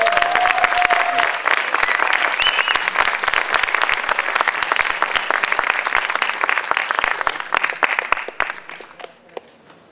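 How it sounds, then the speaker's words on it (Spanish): Sustained applause from a live audience at an evening concert of Chilean and Italian folk music, dense clapping at full strength for most of the stretch before tapering off near the end, with a faint brief tone early on. "Más aplausos para ellos."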